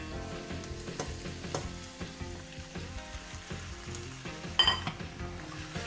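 Roasted pork loin fries with onion in a pan under a dense, steady sizzle. A utensil stirs it, scraping and clinking now and then, with one sharper metallic clink near the end.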